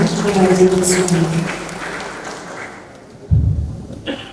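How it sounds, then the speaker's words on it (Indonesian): Audience applause at a program launch event: a dense, steady patter of clapping that runs under a speaking voice, then fades, followed by a single low thump. "Kita berikan tepuk tangan yang paling meriah."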